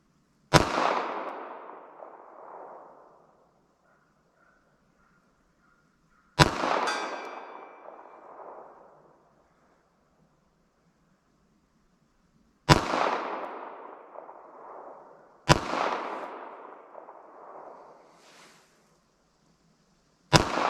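Armscor .22 WMR rounds fired at an outdoor target range ring out as four loud, sharp gunshots, each spaced several seconds apart with a short decaying echo and quiet gaps between.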